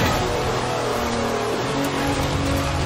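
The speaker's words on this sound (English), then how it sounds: "That's a four-wheel drive car on mud tyres completely sideways." A four-wheel drive car on mud tyres slides sideways in Forza Horizon 4, its engine revving hard and continuously with a steady roar and some tyre scrubbing, loud and close with no talk over it.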